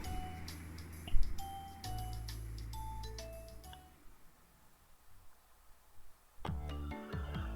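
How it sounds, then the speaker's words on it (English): A bell hung on a restaurant door jingles as the door swings open, giving several bright, clattering rings in the first half before fading, followed by soft knocks. "The bell attached to the door clattered as we entered"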